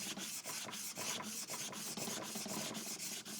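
A sharpening stone's edge is chamfered on an Atma plate at a 45-degree angle, giving a quiet, rhythmic rasping scrape in quick repeated strokes of about three per second, close up.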